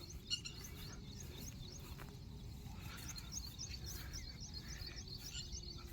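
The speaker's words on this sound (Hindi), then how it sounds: "कुछ शांति ज़्यादा है, बेगादा चिड़िया बोल रही है" Small birds chirp and tweet repeatedly across open farm fields, with faint crickets beneath and a soft steady outdoor hush, no talking.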